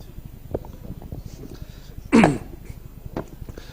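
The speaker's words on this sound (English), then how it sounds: "I'm having some coughing" A single sharp cough bursts out clearly and close, standing above a quiet background with faint low murmuring.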